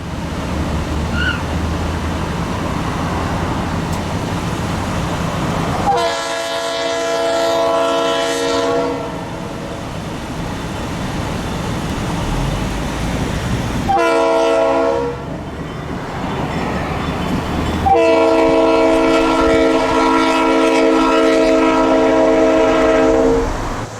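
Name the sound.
Shenandoah Valley Railroad locomotives passing with horn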